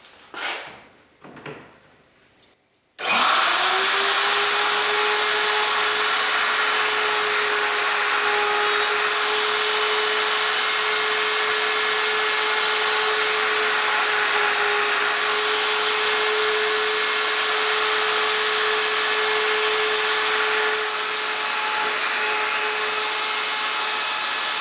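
Plunge router spins up loudly and runs at a steady high whine for about twenty seconds while cutting quarter-inch-deep shelf pin holes through a jig, preceded by a few brief handling knocks.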